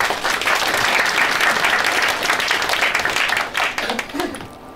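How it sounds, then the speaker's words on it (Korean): A conference audience applauds to welcome the next speaker, dense steady clapping that thins out and fades over the last second. "박수로 맞이해 주세요."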